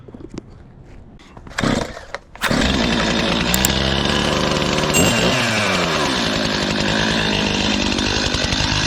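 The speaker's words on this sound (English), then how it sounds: "Let's get rid of some boiler wood while the saw warms up." A chainsaw warming up before cutting sugar maple firewood: after a few short bursts and pulls, the engine catches and runs loud and close at a steady, rough idle with small revs, and no one speaks.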